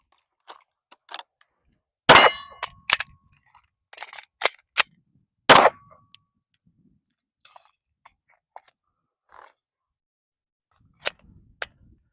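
Stealth Arms Platypus pistol fired at targets outdoors, a scattered series of sharp, loud cracks in irregular rhythm with quiet gaps and faint clicks and handling noises between shots.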